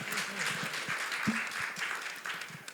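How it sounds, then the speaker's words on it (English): Applause from an audience at a finance forum, moderate and steady, with a voice speaking faintly through it. "A round of applause for him."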